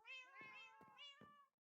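A cat meows in a video game, one clear tonal mewing call rising and falling with a few short breaks, close and alone, ending with a sharp click.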